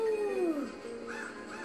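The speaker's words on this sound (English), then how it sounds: "Vacuum bag crows." Cartoonish crows caw in Luigi's Mansion 3, a quick pair of harsh, descending calls up close, followed by a softer warbling caw.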